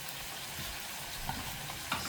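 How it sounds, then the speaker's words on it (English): Onions sizzle and crackle steadily in a hot pan while they are stir-fried, a close and continuous frying hiss with no talking. "So let's just stir fry this."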